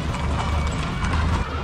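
Horses' hooves clip-clop steadily and loudly through a mounted cavalcade, a religious procession honoring the Miraculous Medal in Atecucario, Michoacán, with a continuous crowded rumble of many riders.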